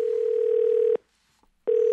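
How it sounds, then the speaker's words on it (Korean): Telephone tone heard while a call is placed, with a steady pitched beep running about a second, then a short silence, then the beep starting again. It is clear and loud, with no talk over it. "그 할매한테 전화 좀 넣어봐"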